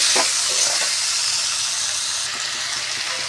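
Potatoes and tomato frying in a pan while being stirred, a steady close sizzle and hiss with faint scraping touches of the spoon.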